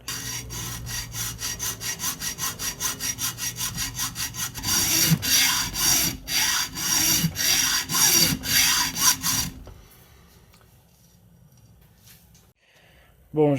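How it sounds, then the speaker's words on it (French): A hand saw cuts slowly through a moped engine part for an MBK 51 with a Polini reed block, first in steady rhythmic strokes, then in heavier, louder strokes for several seconds before stopping into quiet. "on va attaquer avec la scie comme ça là"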